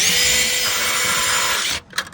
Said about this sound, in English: Put a little pre-drill on there.